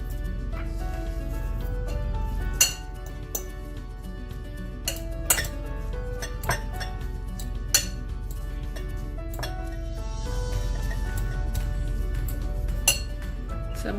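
Spiced pork meatball mixture with garlic powder, ginger and salt being mixed in a bowl, steady clinking of a utensil against the dish with scattered sharper taps and faint squishing underneath, close and moderately loud.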